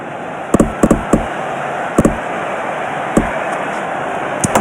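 Bat striking the ball in the iB Cricket VR game: a series of sharp, hollow knocks spaced irregularly over a steady background hiss, fairly loud and close, with no talking.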